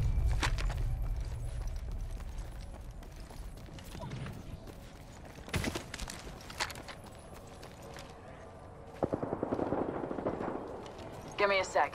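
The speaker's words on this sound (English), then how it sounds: "They spotted me. I'm taking shots." Gunfire in a battle royale video game: scattered, fairly distant shots and short bursts crack over a rumbling game background, while players talk over the action.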